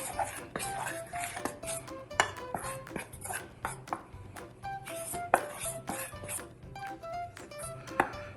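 Mixing ingredients in a bowl with a spoon, repeated scraping and clinking strokes against the dish in an uneven rhythm, close and clear with no talking.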